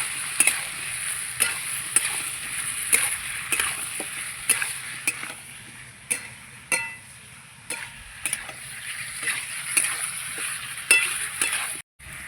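Spices and pointed gourd being stir-fried together in a pan for a fish roe fritter meal, with intermittent sharp clinks of a spatula scraping the pan over a soft, steady sizzle.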